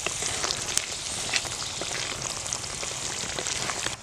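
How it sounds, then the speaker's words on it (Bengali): Fried pointed gourd pieces go into a poppy seed masala in a pan, setting off a steady, close sizzle with crackling pops that continues evenly for a few seconds. "এবার দিয়ে দেবো ভেজে রাখা পটলগুলো।"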